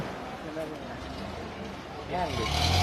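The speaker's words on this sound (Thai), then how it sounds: "เรือหางยาว" Longtail boat engine at a Thai floating market, a steady motor rumble that grows louder toward the end, with a person talking over it.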